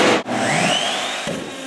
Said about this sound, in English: A router with a bottom bearing bit trims the excess sheathing for a perfect fit.